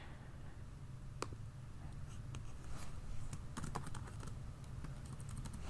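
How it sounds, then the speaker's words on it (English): Fingers type in quick irregular bursts on a computer keyboard, close and fairly quiet, with crisp key clicks over a low steady room hum and no talking. "I'm typing it out in the text box"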